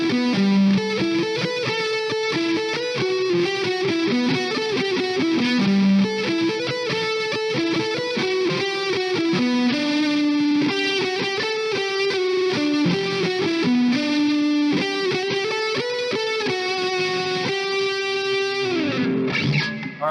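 Lead lines played on a 1984 BC Rich Stealth electric guitar through distortion and reverb, a continuous run of sustained bending notes and quick phrases, loud and close, with no talking.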